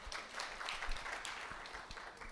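Audience members at a public-private grant programme briefing clap in thanks for a presenter, a soft, fairly sparse round of applause heard from some distance in a hall.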